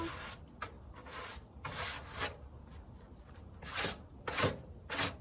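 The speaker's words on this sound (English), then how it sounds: "Now that we have dusted off the top and bottom of the coffee table top" A wooden coffee table top is dusted off by hand, giving a series of short, dry brushing and rubbing bursts with brief pauses between them, the later strokes louder and closer.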